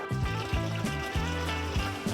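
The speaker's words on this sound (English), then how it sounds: "and in goes the rest of my water." Water pours steadily into a pump-sided garden sprayer tank while mixing a lawn treatment, a continuous close trickle and splash with repeated gurgling surges as the tank fills.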